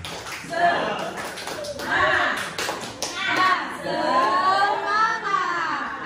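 A room of schoolteachers doing the tepuk semangat spirit clap: bursts of patterned hand claps mixed with loud group chanting voices, rising and falling in a few rhythmic rounds.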